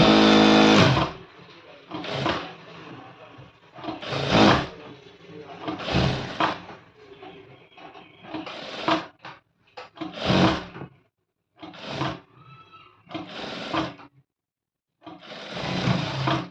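Sewing machine stitching crushed fabric lining for a long frock, running in short bursts of machine whirring with pauses, close by and partly under a person talking.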